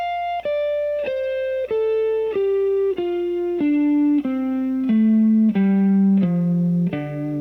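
A sustained electric guitar plays a slow descending D Dorian scale, one distinct note after another at an even pace, each ringing clearly until the next.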